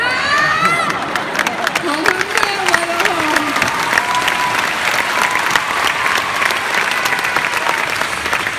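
Dense, sustained applause from a comedy show audience in Lyon fills the room, loud and continuous with scattered shouts and whistles mixed in.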